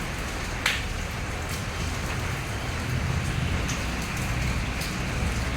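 Steady broadband hiss of rain falling, continuous and fairly even throughout, with a few brief sharper drips standing out.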